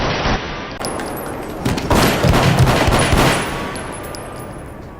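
Gunfire at a crime scene in a police drama, a loud rapid burst of several shots fired in quick succession with sharp echoing cracks, no talk.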